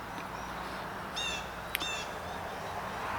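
Crow cawing in the open outdoors, two short harsh calls close together with another faint bird call, over a quiet background hiss.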